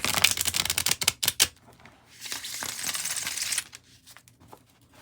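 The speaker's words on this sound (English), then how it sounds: "I am going to continue to pick the tarot cards" Tarot cards being shuffled and picked, with a run of quick crisp riffling clicks followed by a longer papery rush and then a few softer taps as cards are drawn.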